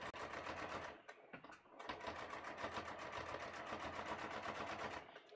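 A sewing machine understitches a dress lining through the seam allowances in rapid, close-up bursts of stitching, with brief pauses near the start and the end.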